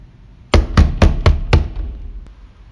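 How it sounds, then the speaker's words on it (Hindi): Five loud, evenly spaced knocks on a wooden house door, sharp and close, followed by quiet room tone. "मान लीजिए आधी रात को कोई बाहर आपके घर का दरवाज़ा खटखटाता है।"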